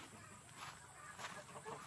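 Soft, intermittent clucking from tethered chickens on a farm against a steady background hiss, fairly faint and a little distant.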